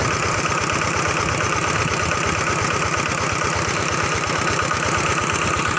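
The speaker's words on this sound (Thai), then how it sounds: "เร่งเครื่องเบาๆครับให้มัน ไหลปากก็แค่เบาๆพอครับ" A small water pump engine runs steadily at a low, even idle with a rhythmic chugging pulse, revved gently, constant and close throughout.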